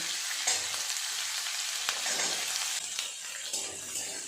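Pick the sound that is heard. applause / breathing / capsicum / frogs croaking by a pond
capsicum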